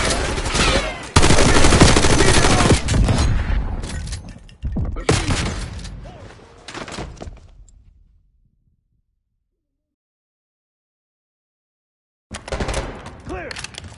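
Dense, loud gunfire from a Black Ops 6 campaign firefight rattles in rapid overlapping bursts for several seconds, then tapers into near silence before another volley erupts.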